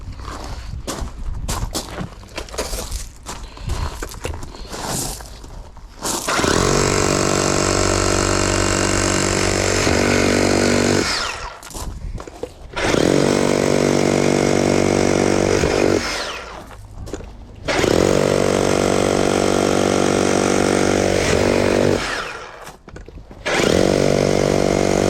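A Bosch SDS Max hammer drill breaks up brick and block in loud, sustained roaring bursts. After some rough starts, three or four long runs follow, separated by short pauses, with no talking.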